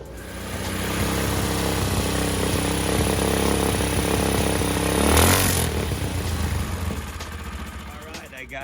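A 212cc vertical motor on a bike with a custom Walker RLV exhaust runs with a steady, loud, pulsing rumble, then revs up briefly and settles back down.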